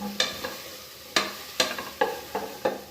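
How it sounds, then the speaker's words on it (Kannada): Vegetables dry-frying in a pan with little oil, a series of crisp, sharp scrapes and knocks from a spatula over a faint sizzle, spaced unevenly across a few seconds. "ಗೈಸ್, ನಾನು ತರಕಾರಿನ ಡ್ರೈ ಫ್ರೈ ಮಾಡ್ಕೊಂಡಿದ್ದೀನಿ"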